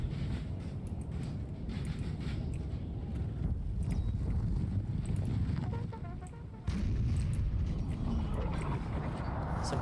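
Horse artillery and cavalry in a 4v4 multiplayer battle of Napoleon: Total War set in the War of the Third Coalition, 1805, a continuous rumbling mass of hooves and battle noise with scattered distant gunfire.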